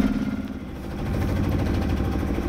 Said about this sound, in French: Tu entends on est au moteur